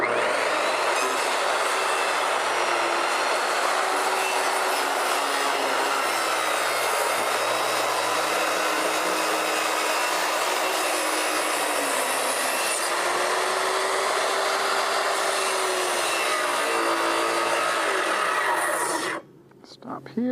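A power saw runs steadily at close range while cutting the outside edge of a wooden dock, its whine holding nearly constant for about nineteen seconds before cutting off abruptly.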